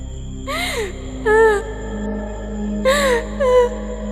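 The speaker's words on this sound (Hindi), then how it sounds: "ठंडी हवा में वह रोने की आवाज और भी डरावनी लगने लगती है" Eerie, wavering wails in a few drawn-out bursts over a low droning hum, sounding like a ghostly cry.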